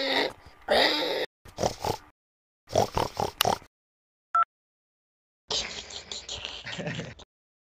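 A person imitates a pig with a series of short, harsh grunting and squealing bursts separated by silences, ending in a longer strained squeal.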